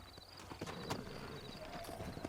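Horse hooves clip-clop steadily in the Red Dead Redemption video game, a continuous trot set against a busy background of game ambience.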